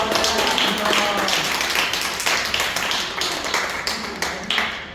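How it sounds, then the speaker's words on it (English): A meeting audience breaks into a round of applause, with dense overlapping claps that go on steadily for several seconds and slowly thin out as individual hand claps become more distinct. "let's give a round of applause"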